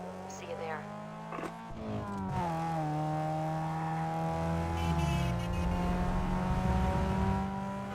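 A Toyota Corolla engine in Need for Speed Underground 2 revs up sharply, then holds a loud, sustained high drone with pitch shifts, while a voice talks over it.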